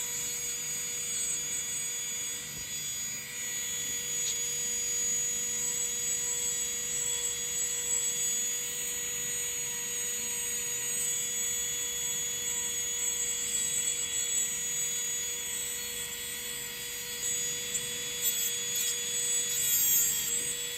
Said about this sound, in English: Using a carbide cone bit, refine the cuticle area. Set the file to its highest speed, but keep it slightly away from the skin